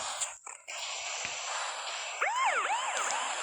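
Police car siren in a video game, wailing up and down in repeated sweeps near the end over a steady background hum, fairly faint and without talk.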